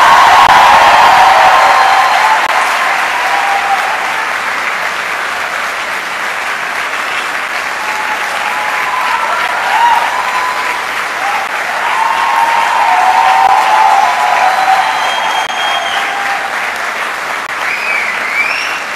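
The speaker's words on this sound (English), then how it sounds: "May I ask the students to give them an applause like nothing they have ever heard." Students at a university convocation applaud their faculty in a long, loud, sustained ovation from a large hall crowd, steady throughout with faint cheers.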